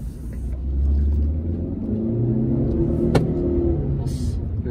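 A Chery Arrizo 6 car pulls away with a deep, steady engine rumble building from low idle into acceleration, heard from inside the cabin at close range, loud and continuous.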